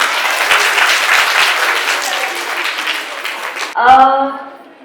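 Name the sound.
audience applause for the chief guest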